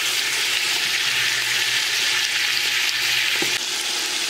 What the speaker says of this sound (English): so it's been seared in the bacon fat